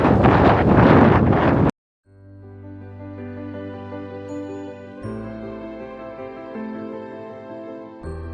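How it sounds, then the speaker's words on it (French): Strong desert wind near a large sand dune buffets the microphone loudly for under two seconds, then cuts out, leaving quiet sustained tonal notes. "il y a énormément de vent."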